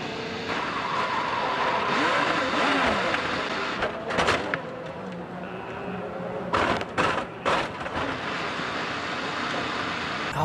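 An IndyCar race car slides during a crash, a long engine roar and tire scrub sustained under crowd noise, followed by sharp bangs and clatter as it comes to rest, loud and close.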